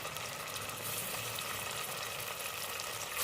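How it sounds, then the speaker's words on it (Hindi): Garlic paste and ginger and green chilli paste sizzle in a pan with already fried onions, a loud, close, continuous hiss of frying that holds steady throughout. "अदरक और हरी मिर्च का पेस्ट"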